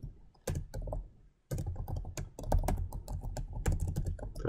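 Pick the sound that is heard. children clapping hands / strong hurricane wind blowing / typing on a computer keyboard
typing on a computer keyboard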